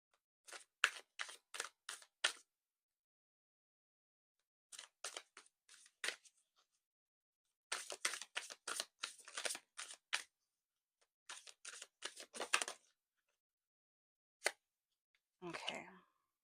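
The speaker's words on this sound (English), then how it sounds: "I'm gonna do that again because I didn't even get to shuffle that one." A spirit animal oracle card deck is shuffled in quick bursts of crisp riffling and tapping, close and fairly quiet, with pauses between rounds and a brief rustle at the end.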